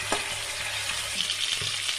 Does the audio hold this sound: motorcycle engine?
no